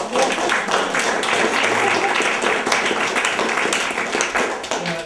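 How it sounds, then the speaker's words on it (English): Audience applause at an evening event, a steady dense wash of clapping from many hands that carries through the whole stretch with little letup. "I think everybody deserves a round of applause"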